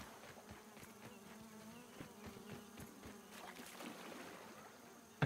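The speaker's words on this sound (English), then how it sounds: "I think I hear mosquitoes" Gnats buzzing in the survival video game Grounded beside a small stream, a steady insect drone with scattered clicks running throughout, ending in a brief loud burst.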